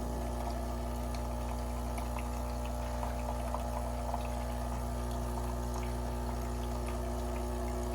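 A Lavazza Classy Plus coffee machine pumps water through its system during a descaling rinse, a faint steady mechanical hum with a soft watery trickle running unbroken throughout.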